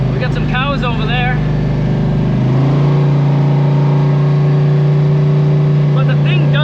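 A Chevy S10 pickup with a Turbo 400 automatic transmission accelerates and upshifts, its engine note climbing then dropping into a steadier drone, loud and close throughout, with someone talking over the first part.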